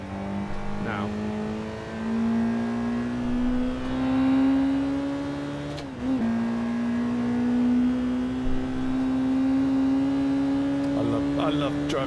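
A car engine drones steadily at high revs while lapping a race track, with a brief lift and gear change midway before the pitch climbs again. A voice talks over it.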